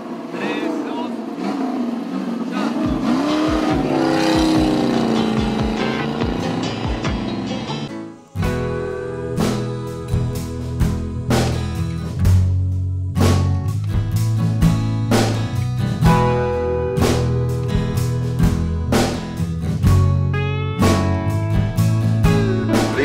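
Dodge GTX V8 built as a General Lee replica in Argentina runs with a deep, rumbling engine note, first a steady roar then a choppier idle with clicks and knocks, loud and close throughout.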